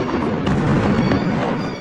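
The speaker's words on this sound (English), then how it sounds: "Explosions and continuous gunfire in Gaza City, captured on film by civilians." Explosions and gunfire in Gaza City, filmed by civilians: a loud, continuous, rumbling roar with scattered sharp reports from nearby, and no clear voices.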